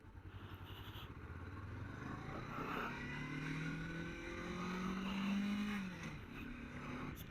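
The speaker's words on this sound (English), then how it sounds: "Bike flicks into corners real nice." A Honda CB500X motorcycle engine hums steadily while riding through corners, its pitch rising and falling as the bike accelerates out of each bend, heard from the rider's position with no talk.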